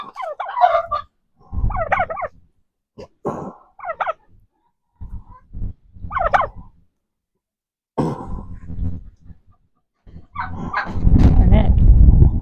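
Chickens being handled during wing clipping give several short clucking and squawking bursts separated by pauses, close and fairly loud, with a louder rustling flurry near the end.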